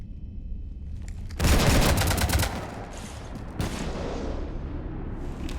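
Gunfire hits a ship during a Mass Effect game. Heavy bursts come in two dense, booming waves. The first is loud and breaks off, then a second barrage follows and holds steady to the end.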